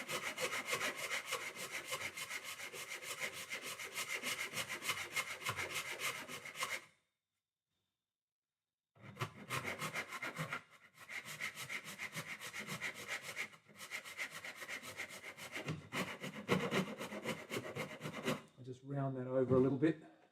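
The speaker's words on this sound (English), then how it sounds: "I'm going to keep going across and then I'm going to scrape and round it down even further" Close, steady rasping and scraping on the wooden body of a Telecaster guitar build as the edge is rounded down, in long strokes with a two-second pause midway and a short squeaky burst at the end.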